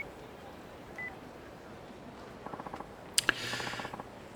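A mobile phone in the Yakuza 4 Remastered video game sounds a short run of electronic keypad-style beeps, followed by a sharp chime and a ringing tone, fairly faint over a quiet background hiss.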